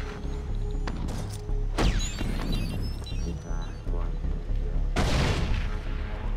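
Grenades exploding in Far Cry 3 Blood Dragon, several loud booming blasts with crackling debris at uneven intervals, heavy and close, layered with continuous game noise and gunfire.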